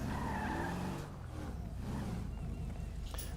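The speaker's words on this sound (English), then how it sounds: "Do some illegal driving to the parking lot. Over that, I'm gonna park my car here." A car in the video game GTA V skids with squealing tires as it is driven and pulled into a parking spot, the skid loud at first, then easing into lower engine and tire noise.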